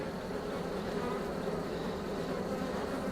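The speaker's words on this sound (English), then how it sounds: "There's so many bees in here" Honeybees in an open hive during a swarm cell check hum in a dense, continuous buzz, close and steady throughout with no pauses.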